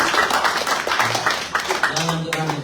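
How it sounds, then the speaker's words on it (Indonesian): A church congregation claps and applauds for God, a dense burst of hand claps filling the room while a preacher's voice carries over it. "Dengan tepuk tangan untuk Tuhan, Bapak Ibu."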